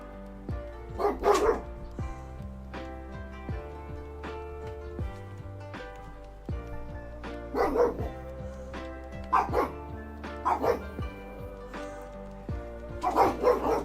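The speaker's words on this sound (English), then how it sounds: "I've no idea what the pugs are barking about" Pugs bark indoors in several loud, close bursts, with yips and short pauses between volleys, and a game's background music plays underneath.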